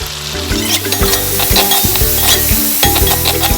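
Bamboo shoot with jackfruit stirs and fries loudly in a pan for a fish curry, with a steady sizzle broken by repeated scraping strokes of the stirring spoon.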